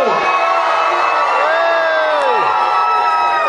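Holiday-camp wrestling audience at Butlins Minehead cheering for wrestler Leroy Brown, loud sustained whoops and children's shouts rising and falling.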